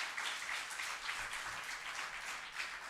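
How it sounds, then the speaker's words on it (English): Audience applause at a startup accounting talk, a steady broadband wash of clapping that holds at an even loudness through the whole stretch with no voices on top. "Can we have a huge round of applause for him?"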